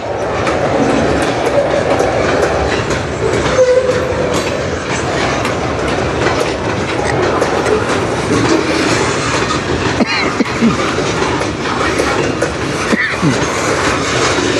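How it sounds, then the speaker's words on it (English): A large industrial freight train of around 100 cars rolls past on the Strathroy Subdivision, a loud, steady roar of wheels and clattering cars with occasional clicks and squeals, continuous and close throughout. "this is a pretty decent size industrial train, so it's around 100 cars"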